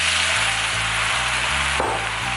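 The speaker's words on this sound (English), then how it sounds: "Next, I'm gonna add a cup of white wine." A cup of white wine poured into shallots in a hot pan for a beurre blanc sauce, giving a loud, close, continuous sizzle and hiss with a low steady hum beneath, and no talk.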